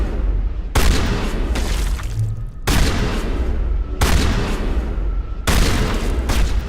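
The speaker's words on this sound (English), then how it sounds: "Thank God for shotguns" Shotgun fire in the game Mass Effect, heard as four heavy, booming blasts spaced a second or more apart, each followed by a long, loud decaying rumble, with no talk over them.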